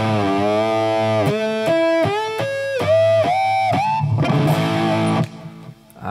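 Distorted electric guitar run through a Two Notes Genome amp plug-in with stereo ping pong delay, a string of sustained bent notes and chords whose echoes bounce and trail off into a brief quiet tail.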